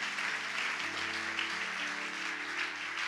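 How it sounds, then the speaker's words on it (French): A church congregation applauding together, a steady dense wash of clapping that holds at an even level throughout with faint tonal sound underneath. "Acclamez pour vous-même."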